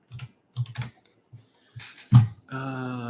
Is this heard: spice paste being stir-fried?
no